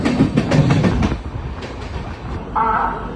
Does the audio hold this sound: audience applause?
no